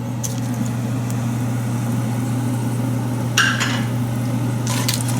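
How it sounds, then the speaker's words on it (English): Red chilies and crushed Sichuan peppercorns fry in hot oil for kung pao chicken, giving a steady, close sizzle with a low hum beneath and a couple of brief brighter crackles toward the end. "And we'll fry that for a minute or so till the red chilies become dark, a little darker."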